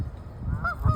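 Geese honk beside a cold river, a few short nasal calls rising near the end over a low rumbling background.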